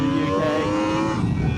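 A Yamaha R1 sportbike engine revs hard and continuously, a loud, close, high-pitched wail with shifting tones and no talking over it.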